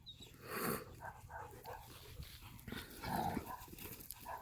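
Dogs, one named Velocity, scuffling in play at home, with rough growly vocal bursts, thumps and scrabbling that rise and fall over several seconds, fairly close.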